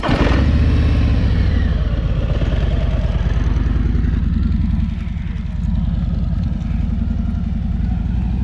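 A heavyweight 900 lb motorcycle rumbles loud and close with a deep, steady engine drone that shifts slightly in pitch as it is ridden, no voices over it.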